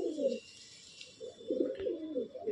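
Madrasi pigeons in a loft at Barasat coo softly in low, rolling bursts, several birds murmuring quietly with a faint hiss in the background.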